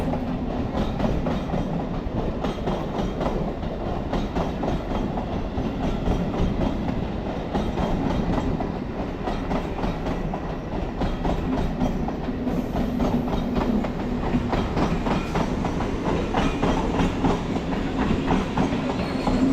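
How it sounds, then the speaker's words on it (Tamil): A Chennai suburban train from Beach to Tambaram rumbles past close by with continuous rhythmic clattering of wheels over rail joints, loud and steady throughout, with no voices. "இப்போது நீங்கள் பார்க்குறதாங்க இந்த பீச் டு தாம்பரம் போகிற ட்ரெயின்"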